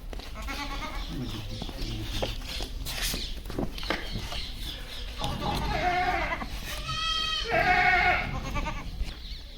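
Pregnant goats bleat close by several times, with loud wavering calls near the end, among shuffling and rustling in a barn.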